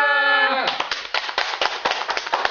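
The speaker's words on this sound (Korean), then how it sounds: "나 박수 쳤어." A burst of hand clapping breaks in after a sustained voiced tone, a quick irregular run of sharp claps, close and fairly loud.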